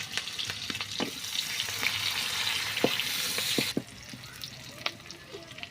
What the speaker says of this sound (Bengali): এরপর আমরা একটু অল্প করে চিংড়ি মাছ দেবো বলে একটু চিংড়ি মাছ দিয়ে দিচ্ছি।